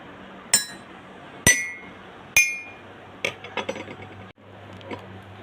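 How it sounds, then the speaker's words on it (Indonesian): A glass partly filled with water struck with a spoon: three clear, ringing clinks spaced about a second apart, each with a sustained bright tone, followed by a quicker cluster of lighter taps and rattles. "Gelas yang dipukul menggunakan sendok dapat menghasilkan bunyi."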